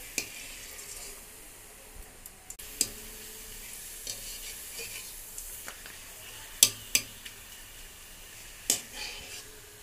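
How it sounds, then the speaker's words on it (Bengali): Papad fries in hot oil, a soft continuous sizzle under sharp intermittent clicks and taps from a utensil against the pan, fairly quiet and close. "তেলটা গরম হয়ে গেছে, পাঁপড়টা ভেজে নিচ্ছি"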